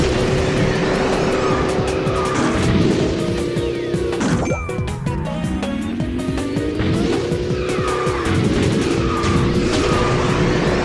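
Speed kart racing in the Cyber Burst video game, a legendary kart roaring steadily at high revs with repeated tire skids and squeals, a sharp impact near the middle, and a continuous loud engine drone throughout, with no talking.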